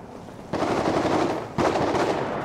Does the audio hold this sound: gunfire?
yes